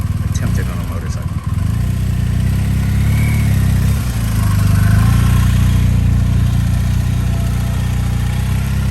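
A motorcycle engine idles steadily at close range, a low continuous throb with slight rises in revs, under occasional background noise.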